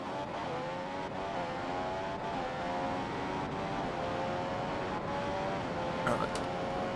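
Race car engine at Monza in the Grand Prix 3 video game holds a steady high whine that slowly rises in pitch as it accelerates through the gears, loud and continuous, with a brief burst of noise near the end.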